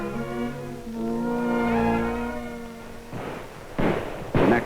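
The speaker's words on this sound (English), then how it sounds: "The next morning, firecrackers are set off to celebrate a holiday." Holiday firecrackers in 1940s Peiping: a few sharp bursts crackle toward the end over a sustained tonal drone, moderately loud and with no talk.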